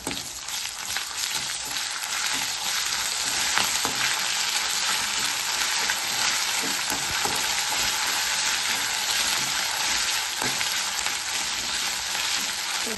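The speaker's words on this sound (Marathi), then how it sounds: "पेस्ट पण छान तेलामध्ये छान परतून घ्यायचं आहे" Ginger garlic paste with cumin seeds sautéing in hot oil, giving a steady, close, even sizzle and crackle throughout with occasional stirring scrapes and no talk.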